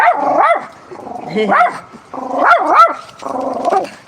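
A dog barks repeatedly in drawn-out, howling yelps, four bursts spaced about a second apart, loud and close.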